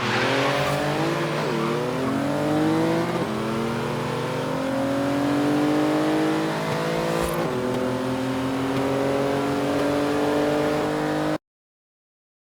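Two cars, a GMC Cyclone and a BMW i8, race flat out in Forza Horizon 3, a loud, continuous engine roar with rising revs, gear shifts and brief tire squeal, ending abruptly.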